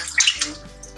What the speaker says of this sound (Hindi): अब ये 1 कप फुल भर के मैंने सिरके का लिया है, ये इसमें जाएगा